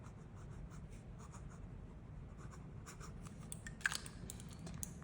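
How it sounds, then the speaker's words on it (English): A fountain pen glides over paper, producing faint, close scratching strokes in a steady rhythm, with a few sharper ticks as the nib lifts and lands. "as you can also probably hear, this is the smoothest out of all three pens."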